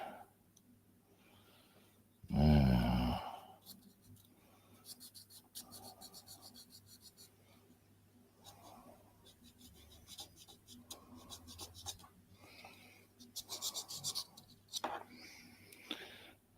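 Rubbing and scraping on a plastic scale model kit at a hobby bench, a loud burst of friction early on followed by intermittent lighter scratchy strokes, close by.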